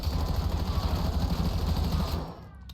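Automatic weapon fire in the Black Ops 7 firing range, a rapid, continuous stream of loud, close shots held for about two seconds before stopping abruptly, followed by a brief fading tail.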